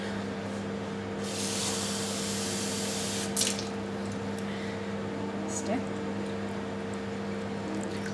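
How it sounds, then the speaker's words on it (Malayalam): Water is sprinkled onto potting soil for planting coriander, a soft splashing hiss that swells for about two seconds over a low steady hum, followed by a couple of faint drips. "ഇനി നമുക്ക് ഇതിനകത്തേക്ക് കുറച്ച് വെള്ളം തളിച്ചു കൊടുക്കാം."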